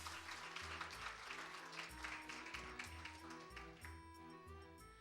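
Audience applause at an open source software day award ceremony, many hands clapping fairly quietly and steadily, with low tonal hum and background music beneath that continues as the clapping thins near the end.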